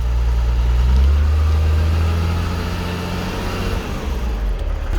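A Deutz-Fahr Agrotron M620 tractor engine runs at idle, close and loud, with a steady deep rumble whose tone shifts slightly toward the end. No one talks.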